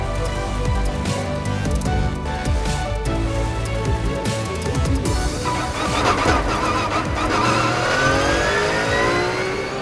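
Race cars start a race at the Val de Vienne circuit, loud engines revving and accelerating together, the pitches rising and sweeping past as the pack pulls away, with no voices.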